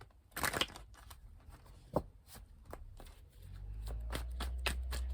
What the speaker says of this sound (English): I'm not going to get jumpers, I'll cut the deck.